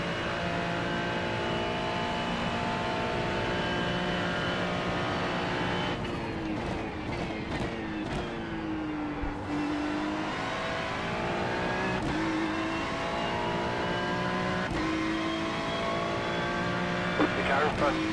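A GT race car laps Mount Panorama in iRacing, its engine droning steadily and swooping through gear changes and revs, with other cars audible and voices talking throughout.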